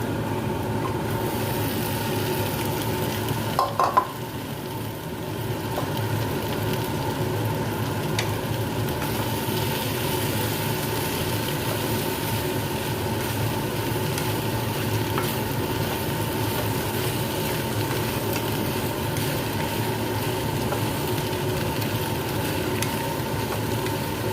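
Okra sizzles steadily in a hot pan while being stirred, a continuous frying hiss with an occasional clink of the spoon, with no talking.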